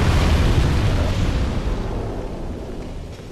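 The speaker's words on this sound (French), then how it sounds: "il tire des flammes" A monster in Demon's Souls belching a loud roaring burst of flame, a dense rumbling whoosh that starts strong and slowly fades over a few seconds, alone with no talk.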